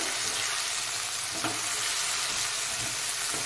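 Half spoonfuls of ginger paste and garlic paste fry in oil for a fish curry, producing a steady, close sizzle with a faint stir scrape midway.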